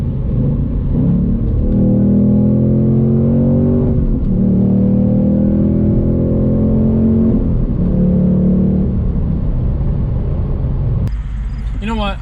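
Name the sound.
2024 Ford Mustang Dark Horse downshift and accelerating pull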